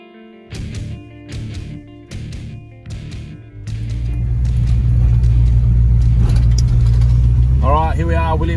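A Ford Fairmont GXL XC with a 351 V8 starting up and driving, its engine rising into a loud, steady rumble after a few short bursts, with a brief voice near the end.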